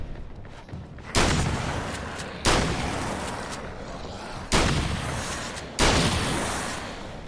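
Four loud, booming shotgun blasts from the video game Alan Wake: American Nightmare, spaced a second or two apart, each with a long rumbling tail that fades before the next shot.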